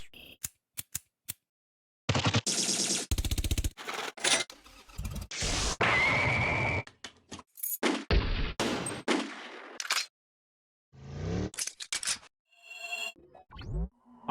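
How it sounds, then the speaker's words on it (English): Bursts of gunshot sound effects within a hip-hop beat being produced, with rapid clustered cracks and stuttering rolls interleaved with loud chopped musical hits and brief silent gaps. "the gunshot sound effects are so goofy"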